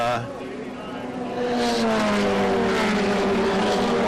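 Race cars of a 2001 USF2000 field sweep past on the Watkins Glen track, a loud engine drone rising as the pack closes in and holding steady, with faint commentary underneath.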